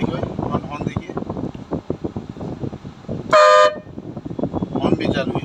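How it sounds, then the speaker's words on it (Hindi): A BS6 Mahindra truck's horn gives one loud, steady blast of about a third of a second, cutting through continuous talking nearby. "आपका हॉर्न भी चालू है, देखो हॉर्न देखिए"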